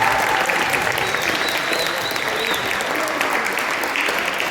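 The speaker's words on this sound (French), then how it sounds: "Et on peut les applaudir encore pour leur super finale et leur victoire" Loud, sustained crowd applause for the winning finalists at an award ceremony, a thick, continuous roar of clapping close by with a few faint voices and whistles mixed in.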